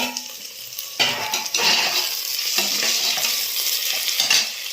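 Onion frying in a pan for mushroom pulao, with ginger-garlic paste and tomato going in, gives a steady close sizzle and the scrape of a spoon stirring through the whole stretch, with no talk.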